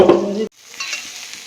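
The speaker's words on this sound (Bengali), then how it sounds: "পেঁয়াজটা মোটামুটি ভাজ" Chopped onions frying in a hot pan with a metal spatula, a loud stir-and-sizzle for half a second, then a sudden cut to a quieter, steady sizzle.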